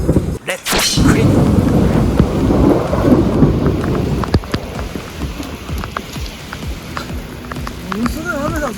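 A thunderstorm with heavy rain pours over an outdoor parking lot construction site in Nagaoka during snow-melting pipe installation work; a loud thunder crack opens over a dense, roaring downpour that continues steadily, with someone talking briefly.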